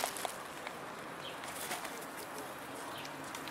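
Pigeons coo softly over a steady outdoor background hiss, with a faint flutter of wings near the start.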